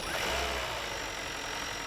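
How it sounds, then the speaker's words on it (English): A 2020 Hyundai Sonata Hybrid's gasoline engine kicks on, giving a steady, close mid-range engine hum with a low rumble under constant broadband road and cabin noise. "the engine will just kick on"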